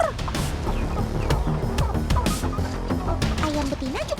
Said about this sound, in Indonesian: Hei, kenapa saling serang gitu? Kalian kan ayam betina. Bisa-bisanya sesama betina berantem ya